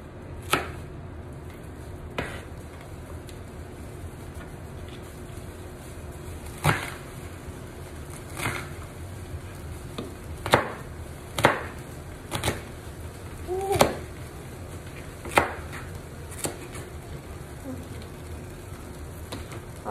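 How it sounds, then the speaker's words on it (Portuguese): A knife chops an onion finely on a cutting board in a home kitchen, giving scattered sharp knocks at an irregular pace over steady background noise. "cortamos a cebola"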